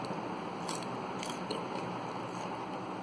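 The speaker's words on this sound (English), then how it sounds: "chew it one or two times" Raw garlic clove being chewed, a few crunchy bites over steady background noise, close and moderately faint, with no talk.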